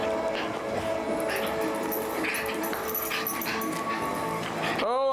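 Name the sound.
dog whimpering and jumping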